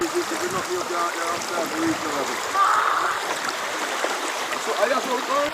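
A river flows with a steady rushing wash of water while someone talks over it nearby.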